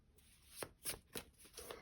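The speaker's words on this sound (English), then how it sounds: "Sorry, it's like awkward shuffling." Tarot cards are shuffled close by, giving four or five quick papery riffles in an uneven rhythm, fairly quiet with no talk.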